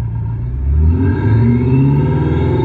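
A BMW M5 Stage 2 fitted with a Thor electronic exhaust sound system gives a deep, close rumble that swells into a short rising rev and holds there.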